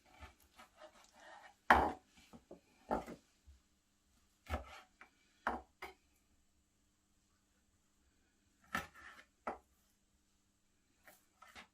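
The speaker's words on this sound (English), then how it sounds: "So the last ingredient we want to slice up is the meat." A knife cuts steak into smaller chunks for a Cornish-style pasty filling: sparse, irregular thuds and taps on a board, spaced with quiet gaps.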